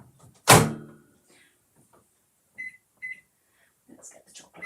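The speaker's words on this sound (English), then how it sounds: "Oh, let me put this back in the microwave." A microwave oven door, with chocolate being warmed inside, shuts with a loud close thunk, followed by two short keypad beeps, while faint voices murmur in a kitchen.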